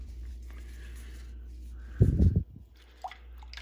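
Motor brushes from a vintage Singer 431G convertible sewing machine swished in clean rinse water: a short, close burst of sloshing, splashing liquid lasting about half a second over a quiet room hum, followed by a few faint drips.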